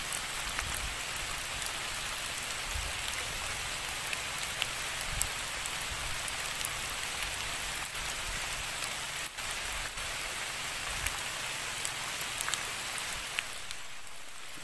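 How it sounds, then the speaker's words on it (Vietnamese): Steady rain falls across a rubber tree plantation just after a downpour, a dense even hiss of drops on leaves continuing throughout with no voices. "Mưa này ướt hết cây này"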